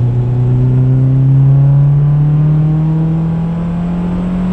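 A Toyota Celica GT4 Carlos Sainz Edition engine and exhaust drone loudly and steadily, pitch rising slowly as the car pulls along a road, close and continuous with no talk.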